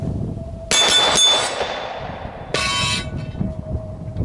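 Bullets strike a reactive steel shooting target: two loud, ringing metallic clangs about two seconds apart, each with a long shimmering decay, heard alone without talk.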